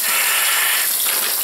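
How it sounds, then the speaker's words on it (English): Water gushes steadily through an opened valve into a backpacking pillow, a loud, continuous rushing hiss with no voices. "I'm going to try now to get some water in there"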